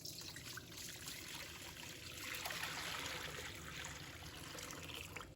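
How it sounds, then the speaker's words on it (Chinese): Two fresh green-skinned cucumbers are rinsed in a bowl of clean water, making a quiet, continuous trickle and soft splashing up close, with no talking. "把青瓜清洗一下。"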